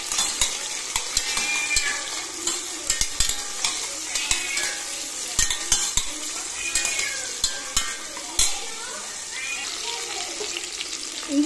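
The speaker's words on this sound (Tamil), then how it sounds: "இதை நல்லா வதக்கி விட்டுலாம் ஃப்ரெண்ட்ஸ்." Onion, green chili, mint and coriander sautéing in a pan for tomato rice, a close, continuous sizzle with repeated scraping strokes and ladle knocks throughout, without speech.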